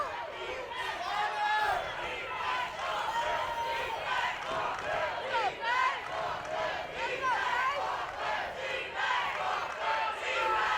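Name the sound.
football crowd chanting defense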